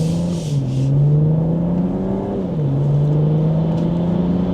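A 2026 BMW M440i Gran Coupe accelerates in sport mode, heard from inside the car. The engine drones loud and close, climbs in pitch and then dips briefly at a gear shift before pulling on.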